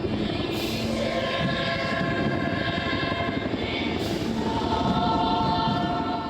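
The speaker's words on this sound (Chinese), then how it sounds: "CH47运输直升机吊挂历届双十典礼上大面的国旗飞过天顶" A CH-47 transport helicopter passes overhead at Taiwan's National Day ceremony, a large national flag slung beneath it; its loud, steady rotor and engine roar fills the whole stretch without letup.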